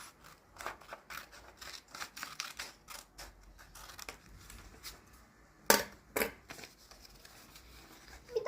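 Close scissors cut through folded origami paper in a run of rapid snips, followed by a couple of louder sharp clacks near the end.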